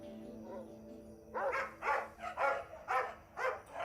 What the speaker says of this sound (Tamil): இந்த நாய்ங்க வேற தூங்க விட மாட்டேங்குதுங்க